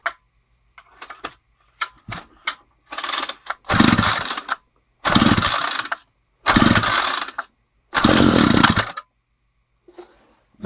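A string trimmer's small two-stroke engine cranks on choke with short pull-start rasps, then fires in several loud, separate bursts of about a second each, close by with brief pauses between.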